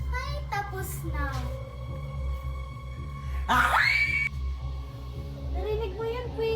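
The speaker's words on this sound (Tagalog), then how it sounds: "May sumisigaw." A scream rises sharply mid-clip in a Filipino drama scene, loud and close over a steady low hum and music, lasting under a second before fading back into the background.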